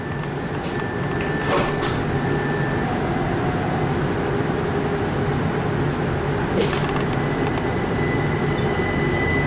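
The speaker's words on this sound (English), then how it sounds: "The doors are closing." Doors close on a Brookville Liberty NXT light rail streetcar on the Tacoma Link, with a couple of brief mechanical clunks over a loud, constant interior hum and rumble, and a faint tone running through part of it.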